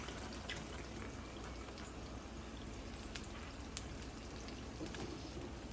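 Beef and cheese wontons browning in hot frying oil give off a steady, dense crackling sizzle, with small pops scattered across the near-constant hiss; no one speaks.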